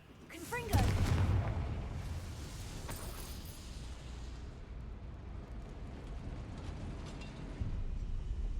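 Fiery spell blasts boom out in the Hogwarts Legacy video game, a loud burst near the start with a rumbling tail, then sustained crackling roar and a fresh swell near the end.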